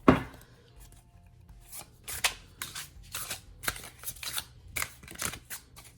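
A Playful Heart Tarot card deck is shuffled by hand, giving a series of soft riffling, rustling bursts in an uneven rhythm, close and quiet, with no talking.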